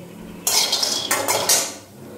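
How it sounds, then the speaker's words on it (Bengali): Fried lentil dumplings being scooped from a pan into a bowl, a few close, bright metallic clatters and scrapes of a spoon against metal cookware in quick succession, then quiet. "এবার বড়িটাকে আমি বাটিতে তুলে নেব"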